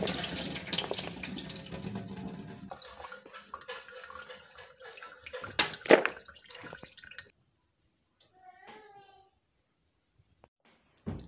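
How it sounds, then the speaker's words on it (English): Washing water is strained off raw groundnuts in a home kitchen, a splashing pour and trickle that fades into scattered drips, with brief bits of a voice toward the end. "I'm straining away the first washing now."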